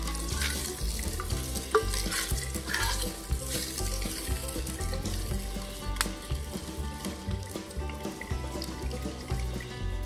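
Chicken stirred in a pan, a steady close wash of frying and sizzle with a spatula scraping through it and wet, saucy bubbling, continuous with no voices.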